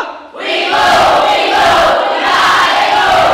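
A classroom of grade 7A junior high students shouts their class cheer together, a loud sustained crowd roar that starts abruptly and holds steady to the end.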